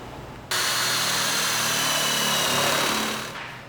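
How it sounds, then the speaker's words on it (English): A power drill with a 7/16 bit boring holes during a Smittybilt XRC corner bumper installation, a loud, steady, close whine that starts abruptly and runs for about three seconds before winding down. "take a 7/16 drill bit and make these holes"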